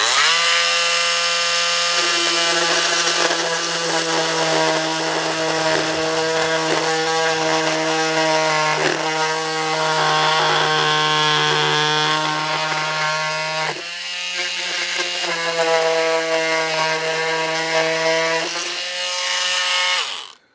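Parkside cordless multi-purpose oscillating tool from Lidl cutting a corner trim off a wooden skirting board, a loud buzzing, harmonic-rich drone that holds steady, briefly dips in pitch partway through, then cuts off abruptly at the end.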